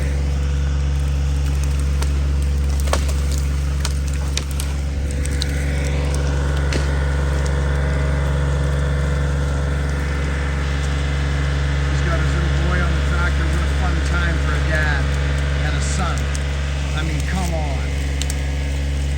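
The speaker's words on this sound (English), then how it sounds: "Caslow's going to run the tractor today" A tractor engine runs steadily close by, a constant low idling rumble throughout, with faint clatter and bits of other activity over it.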